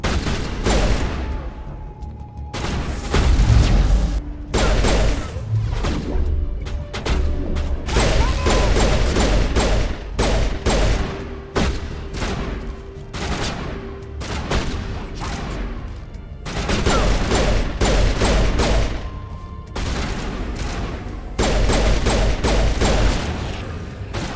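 Repeated bursts of gunfire at a Krogan in Mass Effect. Sharp, closely spaced shots come in clusters with brief pauses between them and stay loud and near over a low background drone, with no talking.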